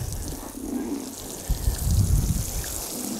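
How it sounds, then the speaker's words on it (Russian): Water poured from above onto freshly planted early potato holes under straw mulch, a trickling, splashing stream that grows louder and denser in the second half, close to the microphone. "Поливаем наши посадки."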